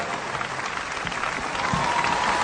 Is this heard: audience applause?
yes